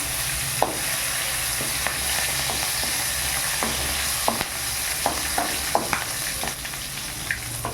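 Curry leaves and spices spluttering in hot oil over a low flame for masala pori: a dense, loud steady sizzle dotted with scattered sharp pops and crackles, close up and without any voices.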